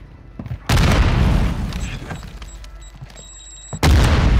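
A frag grenade goes off in Warzone 2 with a loud, close boom, a long rumbling blast that fades into a quieter spell before a second heavy detonation hits near the end.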